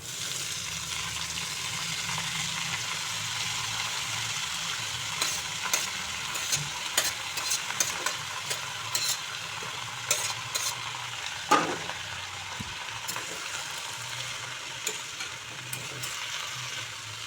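Red amaranth leaves hit a pan of hot oil with crushed, browned garlic and are stirred, giving a continuous loud sizzle broken by scraping, clattering stirs, most busy in the middle stretch.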